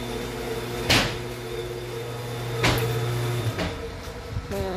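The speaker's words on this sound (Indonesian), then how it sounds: "Nih, kulkasnya lagi dicuci, jadi berisik." Clattering from a refrigerator being washed: a few sharp knocks and bumps of shelves or panels over a steady appliance hum, fairly faint and close.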